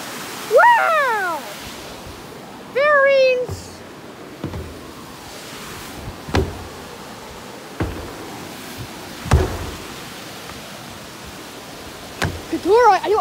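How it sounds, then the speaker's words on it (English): Steady broadband rushing of falling water from Hawk Falls fills the clip, with a few brief whistles and sharp knocks on top. "here's the waterfall."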